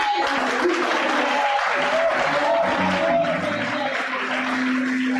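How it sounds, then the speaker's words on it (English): Church congregation clapping hands steadily throughout, a dense continuous patter with music and voices underneath, tones sustained in the background. "Keep clapping your hands."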